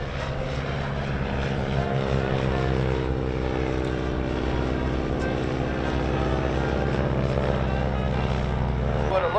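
A Stearman biplane flying at an air show, its radial propeller engine droning loud and steady throughout with a rich harmonic hum, continuous and unbroken.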